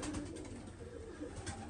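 Iraqi pigeons in a loft in Germany give low, throaty coos that repeat softly and steadily, with no voices over them.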